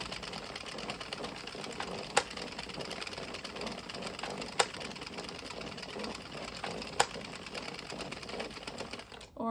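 An Addi 22-needle circular knitting machine being cranked through rows gives a faint, continuous mechanical clatter with a rapid rhythmic ticking and a few sharper clicks at regular intervals.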